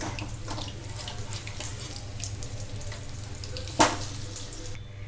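Capsicum mirchi bhajis coated in batter bubble and fry steadily in hot oil, a soft continuous sizzle that stays even throughout, with one brief sharper splash or clatter near the end.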